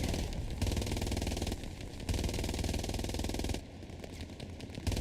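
Sustained machine gun fire in the World War II shooter Hell Let Loose, rapid rattling bursts of automatic fire with brief pauses between them, loud and close over a low engine-like rumble.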